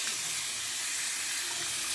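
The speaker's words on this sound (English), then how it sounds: "And then you're going to want to rinse with hot water." Hot tap water runs steadily into a bathroom sink while a face is rinsed after a sugar scrub exfoliation, a continuous close hiss and splash with no voices.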